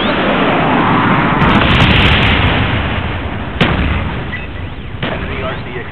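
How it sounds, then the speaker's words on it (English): Napalm strike in the video game Call of Duty Black Ops: a loud, sustained roaring blast that swells and slowly fades, punctuated by a sharp crack midway and a few smaller pops near the end. "Enemy napalm strike inbound."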